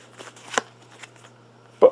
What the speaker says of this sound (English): Okay, shuffling these up here.